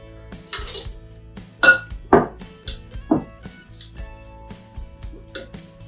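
Raw shrimp tossed with Old Bay seasoning in a dish: scattered clinks and scrapes of utensil against dish, a few sharp close knocks among quieter shuffling.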